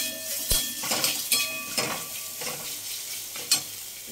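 Ginger-garlic paste sizzles with softened onions in a hot pan as a utensil stirs and scrapes, giving a close, continuous frying hiss broken by a few sharp clinks of metal against the pan.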